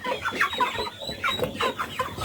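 Several chickens clucking close by in a small farm enclosure in quick, overlapping bursts, with soft background noise and no talking.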